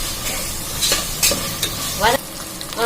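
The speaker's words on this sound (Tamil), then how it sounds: "வெங்காயம் போட்டோடனே இஞ்சி பூண்டு போட்டு நல்லா வதக்கணும்." Onion, ginger and garlic sautéing in a pan for vegetable pulao, a steady close sizzle broken by several scraping stirs of a spoon, with no talk.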